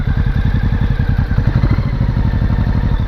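Honda Shadow motorcycle engine running with carburetors needing adjustment, a close, loud, rapid lumpy pulsing idle with clattery thumps in an even, steady rhythm.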